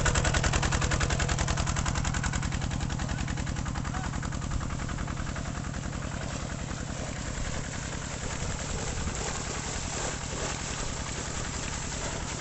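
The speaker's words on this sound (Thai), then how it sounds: "เครื่องยนต์วันนี้คูโบต้า11แรง" A Kubota 11 hp engine driving a high-pressure stainless steel water pump rattles loudly and continuously in rapid, even, machine-gun-like pulses for the whole stretch, with no talking.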